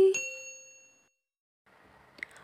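A single bright notification bell dings once at the start and rings out, fading over about a second, followed by quiet and a faint soft rustle.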